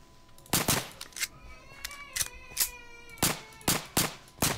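Gunfire in Minecraft, heard as loud, sharp bursts of shots repeating at irregular intervals, some in quick pairs, with a ringing tail between them and no talking.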